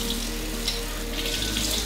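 Tap water runs steadily into a sink while glass parts of an Organic Aromas Raindrop nebulizing diffuser are washed, a continuous close splashing hiss with no talking.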